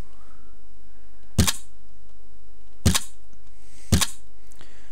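A shotgun in the zombie and alien game Terra Nova fires three sharp, loud blasts spaced about a second or more apart, with quiet background between them.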